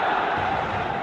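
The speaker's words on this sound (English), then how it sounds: "Red and black wherever you turn, the San Siro is buzzing" A football video game stadium crowd at San Siro buzzes as a steady, loud, unbroken roar of massed voices across the whole short moment.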